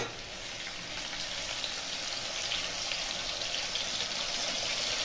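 Potatoes fry in a pan with ground spice paste, giving a steady, continuous sizzle with a watery hiss, close and even from start to finish, no voices.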